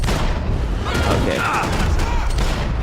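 Dense, loud video-game gunfire rattles on without a break, booming and crackling up close, while a player's voice talks over it.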